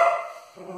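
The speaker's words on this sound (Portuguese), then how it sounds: "eu nunca vi um cachorro bravo com a vassoura" A dog angrily barks at a broom indoors, giving one short, loud bark followed by a fainter yip.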